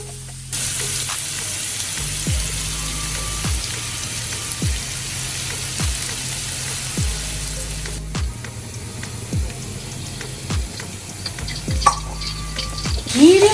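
Shallots and curry leaves with mustard seeds frying on a medium flame for a moong dal tiffin sambar, a steady close sizzle broken by regular scraping stirs every second or so, with a louder clatter at the end.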